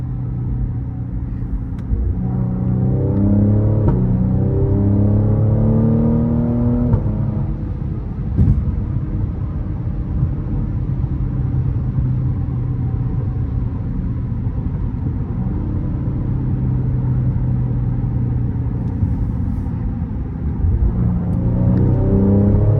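Cadillac CT5-V engine on a late night drive, heard from the cabin as a deep steady rumble with rising revs and downshift blips early and again at the end, no talking.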